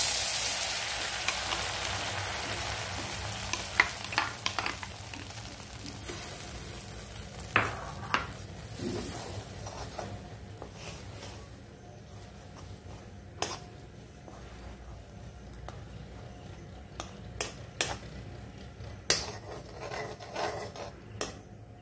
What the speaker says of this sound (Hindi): हम इसमें इस बटर को डाल देंगे।